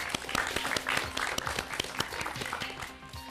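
An audience applauds at a knowledge quiz competition in Azerbaijan, a mix of distinct individual claps and a broader wash of clapping that rises to a moderate level and then thins slightly toward the end.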